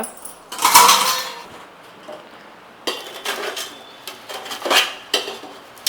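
Metal lid clanks onto a cooking pot of chicken for a village-style biryani, with a sharp clatter followed by a few lighter clinks and scrapes, close by, and no voices.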